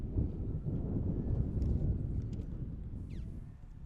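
Wind at an outdoor boys' high school soccer match on a cool early-fall day, a steady low rumbling buffeting that fills the whole stretch, loud and close, with faint distant sounds above it.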